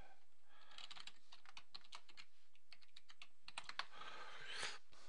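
A password is typed on a computer keyboard in a rapid, continuous patter of quiet keystrokes heard up close, with no other sound.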